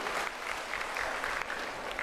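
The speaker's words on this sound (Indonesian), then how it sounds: "Tepuk tangan dong sekali lagi untuk Aloysius." An audience at the opening ceremony of a health check-up charity event in Indonesia gives a short burst of quiet, steady applause, a soft even patter of many hands with no talk over it.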